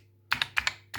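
Several quick keystrokes tapped on a computer keyboard, close and crisp, in short uneven pairs with no talking.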